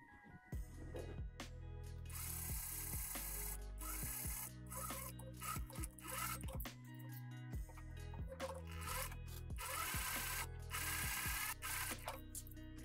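Cargo pants being top stitched on a sewing machine, a pocket sewn in place, heard as repeated bursts of fast mechanical rattling with short pauses between runs, close and fairly steady, with no talking.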